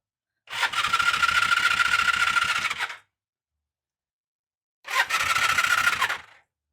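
A Honda CB350 (SG) motorcycle with freshly rebuilt carburettors turns over on its electric starter in two loud, close bursts: a steady whirring crank of about two and a half seconds, a pause, then a shorter crank. No one speaks.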